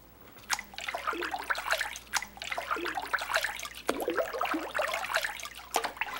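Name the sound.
paper pulp from beater put into a vat of water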